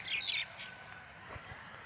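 Birds chirping in the morning outdoors where young people exercise, a brief cluster of high tweets near the start fading into faint ambient background.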